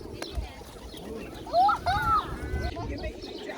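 Pigeons cooing in a large flock at a Cappadocia lookout, a couple of soft, short coos in the middle over outdoor ambience and low background chatter.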